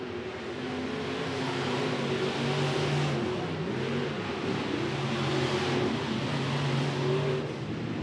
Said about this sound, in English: Single file racing, but they're racing clean.